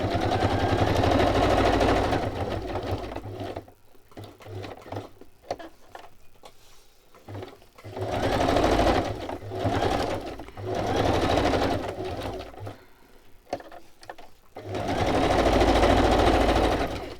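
A sewing machine stitches a pocket onto a small fabric journal project, running in three long, steady, rapid bursts of close, buzzing mechanical stitching, separated by quiet pauses filled with faint handling noise.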